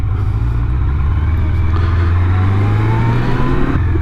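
Honda CB750 Nighthawk motorcycle engine running steadily while riding, a loud continuous low drone whose pitch rises slightly as it pulls through a turn, with wind rush and no talking.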